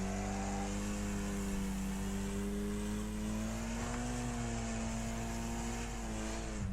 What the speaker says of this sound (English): Car going back the opposite way